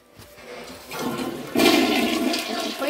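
A toilet flushes nearby, water rushing and swelling into a louder gurgling swirl that carries on steadily to the end.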